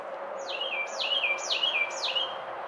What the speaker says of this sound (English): Hear the little birds chirping.